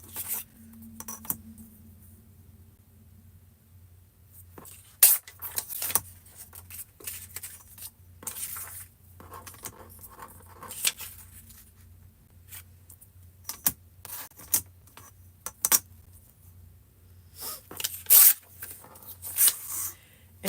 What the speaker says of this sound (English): so you can stop hearing me tear paper